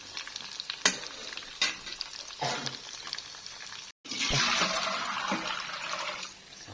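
Homemade food fries in a pan on a stove, with scattered crackles, clinks and stirring early on, then a loud steady sizzle after a brief gap, close by and without voices.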